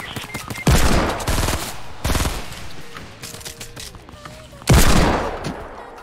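Video game gunfire comes in three loud bursts of rapid automatic shots, each a sharp attack trailing off into echo, with quieter clatter and game sounds in between.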